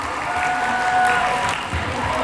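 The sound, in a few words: audience applause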